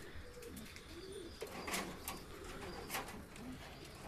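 Growing pigeon chicks in a high-flyer breeding loft give soft, low cooing calls over a faint, steady background hum, with a few brief clatters and rustles nearby.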